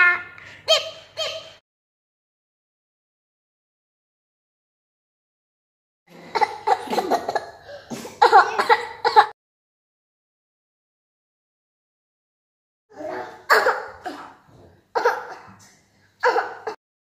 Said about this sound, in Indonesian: Ini kakak ajari cara batuk yang benar